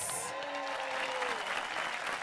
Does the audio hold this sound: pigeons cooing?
no